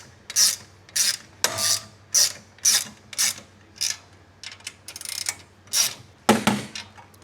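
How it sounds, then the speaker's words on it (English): A hand ratchet tightening bolts and nuts on a paperpot transplanter during depth-dial assembly, heard as a series of about eleven short, close, dry clicking bursts in an uneven rhythm, with no talking. "now I'm going to tighten those back down once I have them both in."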